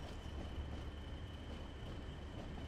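A train passing in Train Sim World 4 on the Blackpool branch line: a faint, steady rumble of rolling wheels and carriages that holds evenly throughout, with no voices.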